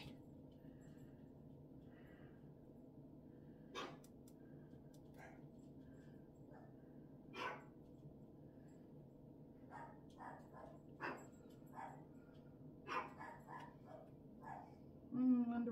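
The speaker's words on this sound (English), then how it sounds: "Wonder what them doggies are barking at." Several dogs bark intermittently in the distance, scattered yips and woofs over a steady low background hum.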